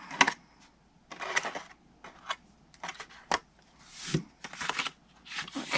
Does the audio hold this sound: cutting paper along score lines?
yes